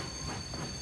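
A train in the video game Warhammer 40K: Space Marine 2 rumbles past with wheels squealing and clattering, a brief, steady, loud rush of rail noise with no voices.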